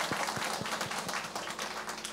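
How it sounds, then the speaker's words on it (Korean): A church congregation claps during a Sunday worship service, the individual hand claps distinct and fairly rhythmic, moderately loud and close, with no speech over them. "하나님께 우리 영광의 박수 돌리겠습니다."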